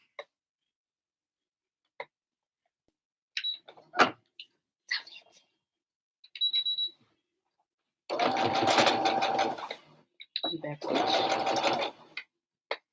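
Sewing machine backstitching fabric during a spring upcycle project, with two loud close bursts of whirring stitching separated by a short pause, preceded by scattered clicks and handling noises.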